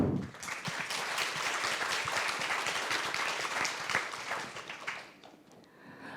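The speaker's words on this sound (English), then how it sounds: "let's give a round of applause for our speakers today" A seated audience at a business and technology forum gives a round of applause for the speakers, a dense, steady wash of clapping that holds for about five seconds before tapering off quickly.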